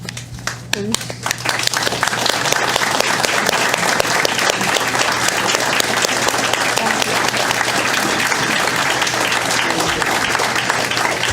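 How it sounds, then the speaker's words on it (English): Audience applause fills a town council ceremony in Enfield, Connecticut, a dense, steady round of clapping from a roomful of people that runs loud throughout, with a low steady hum underneath. "everyone please give them a round of applause"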